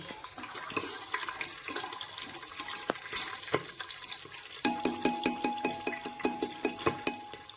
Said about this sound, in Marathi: ह्याच्यामध्ये पाणी उकळून घेतलं म्हणजे जे काय तूप आहे ते आता मी हे गाळून